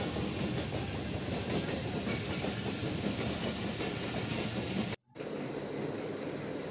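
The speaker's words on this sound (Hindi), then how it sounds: "आपको लाइव ट्रेन का मंज़र दिखाते हैं" A passing train fills the scene with a loud, continuous rumble and rattling clickety-clack, heard from close by along the route in Islamabad; the noise cuts out abruptly for a moment near the end.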